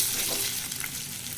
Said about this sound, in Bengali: ডিমটারে ভালো করে ভাজবো।